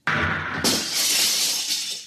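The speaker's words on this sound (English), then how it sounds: "The viewport is broken. I've shattered it." A spaceship viewport's glass shatters as a radio drama effect: a sharp crash followed by a second louder burst of breaking glass that sprays and fades over two seconds, heard alone.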